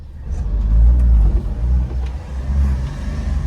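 A Honda car in a video game pulling away in first gear at low RPM, its engine a loud, close, boggy low rumble that rises and swells unevenly without ever climbing into a clean rev.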